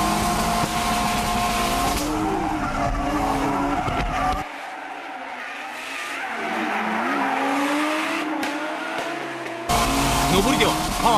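A Toyota Chaser JZX100 chases other cars drifting on a Japanese mountain pass, with loud engines revving hard, tires squealing through long corners, and a constant roar close by.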